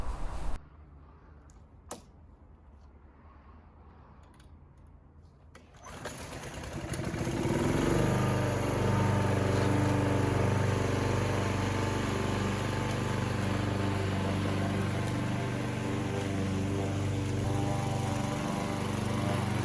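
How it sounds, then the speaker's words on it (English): A powerful petrol lawn mower starts after a few quiet seconds, then drones loudly and steadily through long, overdue wet grass, its engine note labouring slightly under the load. "even with a powerful petrol mower, it was still struggling a little bit"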